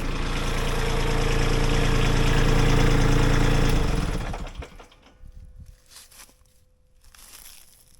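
A Kubota B2601 compact tractor engine idles loudly and steadily close up, then is switched off around four seconds in, leaving near silence with faint background noise.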